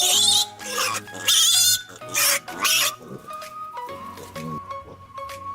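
Two wild boar piglets in a newly built pen let out repeated high squeals and grunts in loud bursts, close by, which then fade into softer, intermittent snorting.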